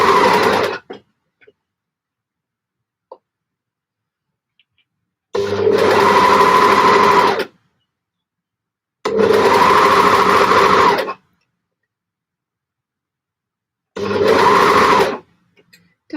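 A sewing machine stitching t-shirts runs in three loud, close bursts of about two seconds each, separated by near silence, with a brief whir at the start.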